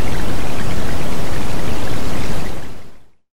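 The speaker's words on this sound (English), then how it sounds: "How it always only rains." Rain pouring in the UK, a loud, dense, broadband rush of falling water that stays constant before fading out abruptly near the end.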